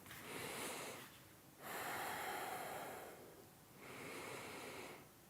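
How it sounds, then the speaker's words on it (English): Slow, deep yoga breaths drawn into the abdomen and released, two long inhale-exhale cycles heard close and soft with airy rushing tone. "you're going to take a deep breath all the way into the abdomen"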